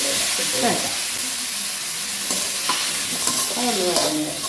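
Tomatoes and green chillies sautéing in a pan for Kerala-style rasam give a steady, close sizzle. A spoon stirs through them several times, each stroke adding a brief scraping swish.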